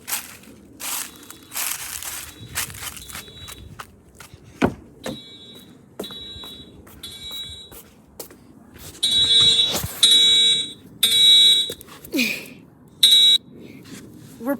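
A building fire alarm sounds in repeated loud bursts of piercing electronic tone, with stretches of clatter and muffled activity between them, growing more insistent toward the end.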